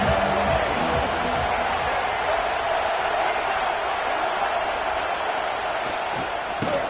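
A college football video game stadium crowd roars steadily at kickoff, a dense, continuous wash of cheering that holds at the same loud level throughout, with a few sharp impacts poking through near the end.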